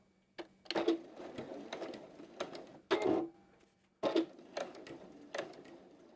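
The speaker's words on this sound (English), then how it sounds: "And now I'm just going to sew along that edge, closing it up." A sewing machine stitches along the edge of a fabric Easter project, closing it up, in short bursts of mechanical whirring and clicking with brief pauses between runs, close and moderately loud.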